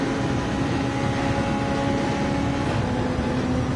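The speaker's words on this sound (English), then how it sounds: "Let's rev it a bit more." Car engine in Gran Turismo 7, played in VR on PSVR2, held at a steady high rev with a constant droning tone throughout, loud and alone with no talk.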